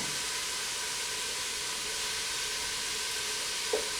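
Minced garlic, two cloves, sizzles in a pot of chicken soup base, giving a steady close frying hiss. A faint clink comes near the end.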